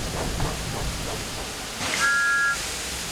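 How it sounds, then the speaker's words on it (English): A cartoon steam engine, Thomas, gives a short cheeky whistle, a bright steady tone lasting about half a second near the end, following soft chuffing and hiss. "Thomas likes whistling cheekily at him."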